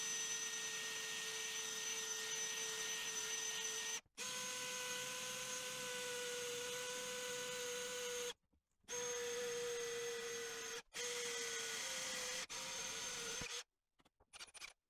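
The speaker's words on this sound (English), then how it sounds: "That's what I'm drilling through my tile." Power drill boring through wall tile while fitting an electric shower, a loud sustained whine in long bursts broken by short pauses, close by with no talking.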